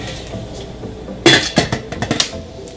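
A lid clanks down onto a cooking pot of mutton biryani in a home kitchen, one sharp metallic clang followed by several lighter rattles and taps close by.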